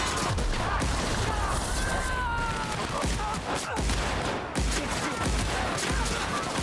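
Gunfire in the video game The Outer Worlds comes as a dense, dry crackle of rapid shots running nearly the whole time, with occasional heavier thumps and brief game effects layered in.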